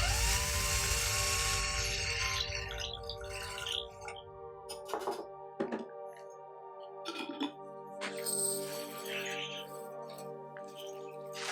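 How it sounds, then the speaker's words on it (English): Metallic drilling with a whining step drill bit and scraping clinks, a few bursts biting into thin metal jar lids over a steady mechanical hum. "I'm using a step drill bit here, which I find to be the most effective way to drill holes"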